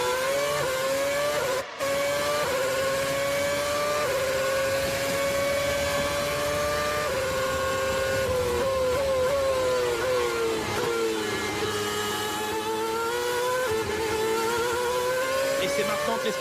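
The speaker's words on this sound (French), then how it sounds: "ce sera le départ de ce Grand Prix de Malaisie" Formula 1 race cars scream off the start of the Malaysian Grand Prix, a dense, loud wall of high-revving engines rising and falling in pitch as they accelerate, with a commentator talking over the roar.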